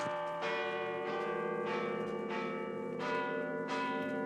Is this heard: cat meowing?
no